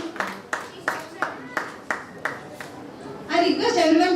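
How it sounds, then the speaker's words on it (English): Small audience at a student startup pitch award session clapping in a slow even rhythm of about eight claps, followed by voices talking over the end. "Give a big round of applause."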